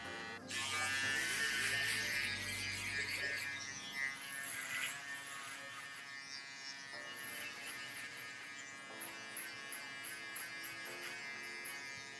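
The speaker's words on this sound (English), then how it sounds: "I have to remove the long hair first with my trimmers before I use my shavers." Electric hair trimmers buzz steadily while cutting hair during a combover fade haircut, a close, continuous high-pitched hum that rises as the blades bite into the hair, then settles to a lighter drone.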